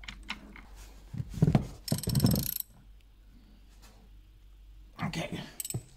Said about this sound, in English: Now we're gonna put the bolt back in. Get her all tightened up.